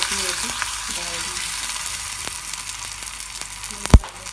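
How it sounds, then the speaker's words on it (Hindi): Maize roti sizzling in butter on a hot tawa, a soft steady frying hiss with light scraping, ending in one sharp knock of a utensil near the end. "पहले हम तवे के ऊपर ये मक्खन लगाएंगे और इसके ऊपर ये अपनी रोटी डालेंगे।"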